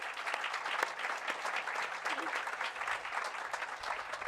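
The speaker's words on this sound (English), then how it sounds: "Please give a round of applause to the mayor as well." A quiet, fairly distant patter of clapping for the mayor at a university engineering building event, continuous and soft with a hint of voices mixed in.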